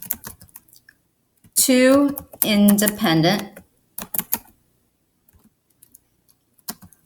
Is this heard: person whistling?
no